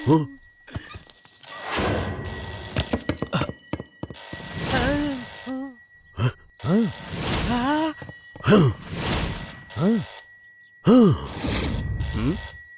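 A telephone rings in repeated bursts of electronic trilling in an office scene from a Hindi-dubbed South Indian film, with people talking and groaning between the rings.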